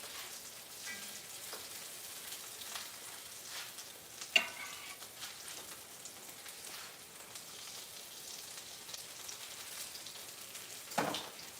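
Food frying in an uncrowded pan while preparing banana pudding cinnamon rolls, a steady faint crackling sizzle throughout with a couple of sharper pops, no talking.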